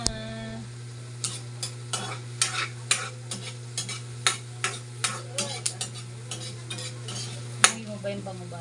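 Onion and garlic in a small amount of oil, being stirred in a pan while cooking. Close, steady sizzling runs throughout, broken by repeated scraping stirs about every half second, with no voices.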